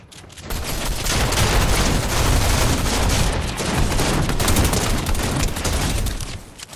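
Rapid automatic gunfire in a Fortnite match, loud, dense bursts of shots sustained for several seconds with short gaps, fading at the start and end.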